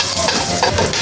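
Garlic frying in a little oil, a brief, close, steady sizzle and crackle with no talk.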